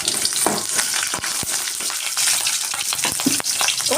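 Curry leaves and green chillies fry in hot oil for egg ullikaram, a close, busy sizzle with sharp pops and crackles and occasional stirring clicks.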